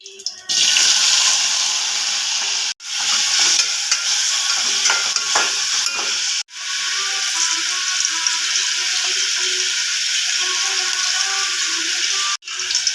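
Ridge gourd and vegetables fry in oil with a continuous loud sizzle and crackle, broken by a few sharp gaps, with a voice talking faintly underneath.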